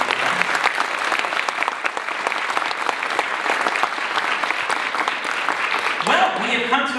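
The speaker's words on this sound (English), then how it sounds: "let's give our seniors and award winners one big warm round of applause" Sustained, dense applause from a concert audience at a high school spring band concert, honoring seniors and award winners; steady, loud clapping fills the whole stretch, with a brief tonal sound near the end.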